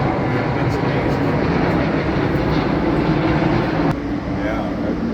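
Steady, loud roar of a Qatar Boeing 777 airliner heard from an airport control tower in Seattle, a continuous broadband engine rumble with a voice talking underneath.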